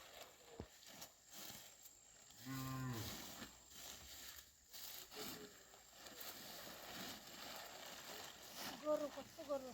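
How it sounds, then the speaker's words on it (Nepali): Cattle moo in a Himalayan shepherd's village during snowfall, with one clear low drawn-out moo over faint rustling and a voice talking quietly nearby. "गोरु कस्तो गोरु छ"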